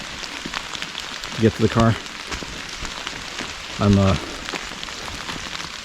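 Steady rain falls around a hiker on the muddy, slippery Pinchot Trail, a broad continuous patter close by, with someone talking briefly over it twice.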